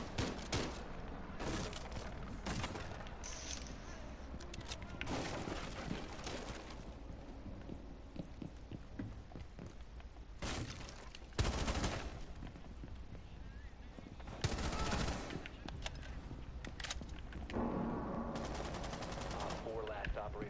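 Gunfire during a video game shooter match: repeated sharp bursts and single shots at intervals, some louder and closer, over a busy in-game background with occasional voices.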